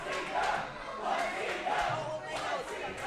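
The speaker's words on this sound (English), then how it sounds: "These crowds showing their respect for what these two have put themselves through." Crowd at a pro wrestling show cheering in respect, a sustained roar of many voices with swelling shouts, filling the space at a steady moderate level.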